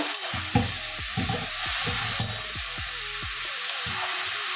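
Bottle gourd stir-fried with salt in a pan, a steady sizzle broken by a regular series of scraping spatula strokes, close and fairly loud, with no talking.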